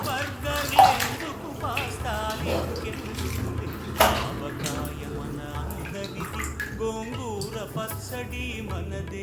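Fresh coriander leaves being washed in water, with steady close splashing and sloshing and a few sharp clinks of a vessel, while a person talks over it.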